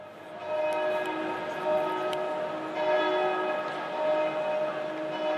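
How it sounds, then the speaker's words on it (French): Bells ring at Stade Jean-Bouin during a Stade Français Paris vs Castres Olympique Top 14 rugby match, their clear sustained tones sounding continuously and moderately loud over a faint crowd hush. "au moment où la sirène retentit, les cloches retentissent"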